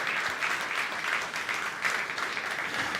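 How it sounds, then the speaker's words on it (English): Steady applause from an audience at a Sony camera launch event for the Alpha 9 III and FE 300mm F2.8 GM lens, dense continuous clapping filling the room for the whole stretch. "I heard the applause"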